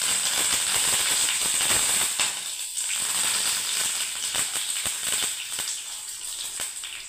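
Mustard seeds and curry leaves sizzling in hot oil for chire poha, a steady loud hiss with crackling pops and spatters throughout.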